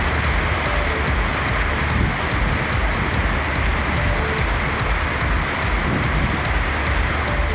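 Heavy rain pours steadily across Madurai city during a thunderstorm, a dense, loud, unbroken hiss of water on surfaces with no distinct thunderclaps, no voices.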